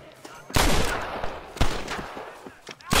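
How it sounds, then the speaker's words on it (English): Loud gunshots crack out in bursts in Red Dead Redemption, a heavy volley followed by scattered single shots and another burst, echoing sharply with no one talking. "Looks like there's gunfire."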